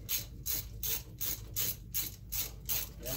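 Rapid ratchet clicking as a bolt is run down on a Quad 4 engine, in about eight evenly spaced bursts of pawl ticks, close and steady, with no voices.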